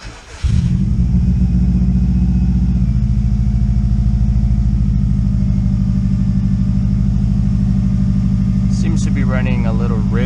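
A 2003 Subaru WRX engine cranks briefly and fires on a cold start, then settles into a loud, steady, rich-running idle close to the microphone, with a voice speaking near the end.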